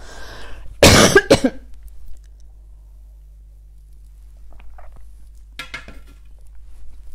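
A woman with a lingering cough coughs in a sharp burst of several harsh coughs, then a quieter pause, followed by a few fainter rustles and clinks.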